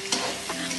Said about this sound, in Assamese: এতিয়া জাষ্ট মিডিয়াম টু ল' ফ্লেমত ভাজি আছোঁ, একদম হাই ফ্লেম কৰি দিয়া নাই